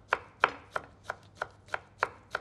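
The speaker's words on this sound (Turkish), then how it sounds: "Şimdi yavaş yavaş biberimizi çok fazla iri olmasın, içinde çok da fazla belirgin olmasın diye ona göre şöyle bir küçük küçük doğrayalım." A knife finely chops peppers on a cutting board, eight crisp, evenly spaced taps in a steady rhythm, close and fairly quiet, with no talking.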